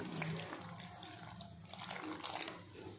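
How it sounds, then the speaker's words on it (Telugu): Water is poured from a small vessel into a mutton paya masala of turmeric, coriander powder and salt, a soft, close trickling and splashing that runs for a few seconds at low volume. "ఇందులో కొంచెం వాటర్ కూడా వేసుకుందాం"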